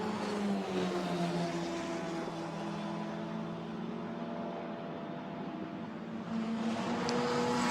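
A Formula Renault Eurocup racing car passes during qualifying at Spa-Francorchamps, its engine a high, steady whine that shifts pitch as it goes by, heard at a moderate distance against a constant background roar.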